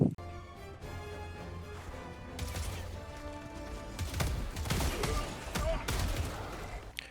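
Rapid gunfire aimed at automatons in Helldivers 2, a dense run of sharp crackling shots and thuds over a steady rumbling bed, loud and continuous throughout.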